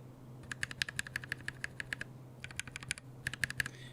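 Mechanical keyboard with switches lubricated in a T1 plus T4 mix, typed in quick bursts of sharp, close clicks separated by short pauses, quiet overall with a faint low hum beneath.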